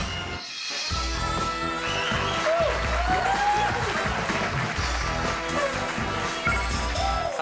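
Studio audience applause on a Taiwanese TV variety talk show, a steady, dense clapping that fills the whole stretch, with music and some voices mixed in.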